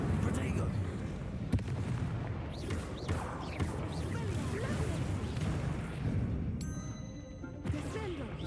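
Spell combat in Hogwarts Legacy: continuous blasts, crackles and impact bursts layered over busy game effects, with a couple of sharp cracks standing out, heard alongside a voice calling out spells.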